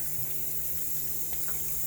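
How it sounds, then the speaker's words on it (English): Hot water runs steadily from a tap as hands are rinsed beneath it, a continuous close splashing hiss with faint shifts as the hands move through the stream. "Kind of wash my hands off a little bit with hot water."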